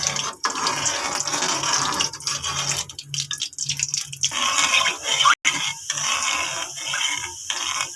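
Gulab jamun dough patties fry in hot oil while a spoon keeps them moving, giving a dense crackling sizzle, close and fairly loud, broken by short gaps and a sharp clink.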